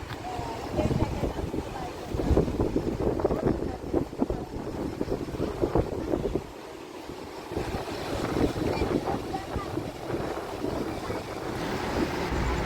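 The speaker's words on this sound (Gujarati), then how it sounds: "મસ્ત દરિયાનો ખડખડાટ અવાજ આવે છે" Waves roll and wash against the shore in a continuous rushing roar, with wind buffeting the microphone and voices murmuring underneath.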